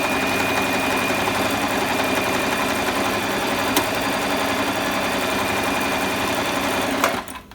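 A Tugi Easy 60 sewing machine runs continuously and loudly while stitching a buttonhole, a steady close whir that cuts off near the end.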